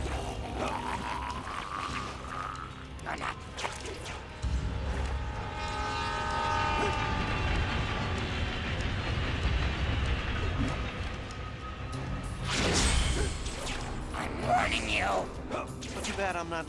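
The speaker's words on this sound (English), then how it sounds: "You have a train to catch, or will it catch you?" A train rumbles closer in the Spider-Man: Shattered Dimensions video game, a loud sustained mechanical roar with brief horn-like tones and metallic squeals, swelling again near the end.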